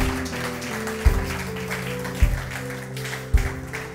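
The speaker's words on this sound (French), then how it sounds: "Est-ce qu'on donne une acclamation à Jésus?" A church congregation applauds and cheers. Steady clapping runs under a low musical drone, and three sharp thumps punctuate it at regular intervals.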